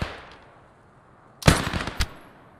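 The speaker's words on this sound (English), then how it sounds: "Nice shooting." A close, sharp burst of rifle fire from the WWII shooter Post Scriptum breaks a quiet stretch, followed by a rapid string of cracks and one last separate shot a half second later.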